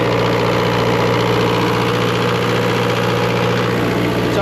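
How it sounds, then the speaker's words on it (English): A loud boat generator runs steadily in its compartment, a constant droning hum with strong low tones and an even vibration, close up and alone without talk. "The generator is loud"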